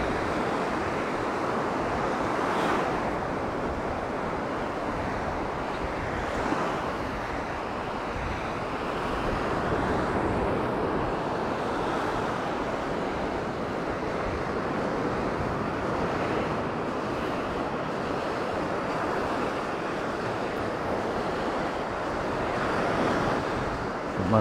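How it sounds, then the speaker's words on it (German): Continuous wash of sea waves breaking and rolling at a river mouth on the open sea in winter, steady and fairly loud, mixed with wind buffeting the microphone; no voices. "Dann gibt es halt immer so ein bisschen Wellen."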